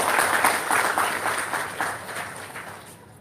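Audience at an RTI awareness programme bursts into loud, sustained applause for about three seconds, the sound gradually tapering off toward the end, with no voices over it.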